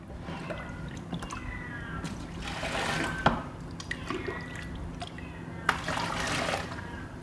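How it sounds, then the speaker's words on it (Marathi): Water poured into a 20-litre bucket, splashing and gurgling in two separate bursts with quieter dripping between them, moderately faint and close. "2 लिटर पाणी टाका त्या बकेटमध्ये."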